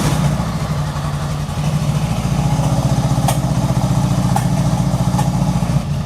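A 1975 Honda Goldwing engine, freshly tuned with four carburetors, running loud and close at a rough, pulsing idle with a steady low throb throughout and a few faint clicks over the top.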